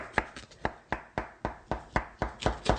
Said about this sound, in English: just using a knife, I'm just going to go around and cut this shape out